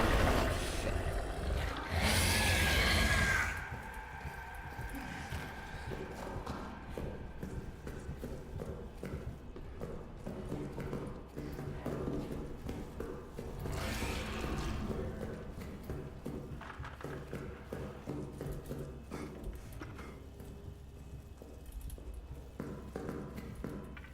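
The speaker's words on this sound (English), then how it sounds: "That was rhythmic. My footsteps there." Rhythmic footsteps of a player character in a horror video game, a steady run of close, hollow thuds like hooves on wood, opening with a louder burst and settling into a quieter repeating tread.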